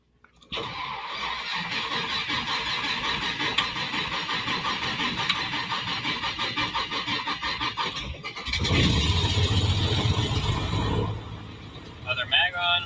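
A light propeller aircraft engine cranks and catches, settling into a loud, rhythmic pulsing idle. A voice speaks over it partway through, and the engine note deepens and surges before easing back.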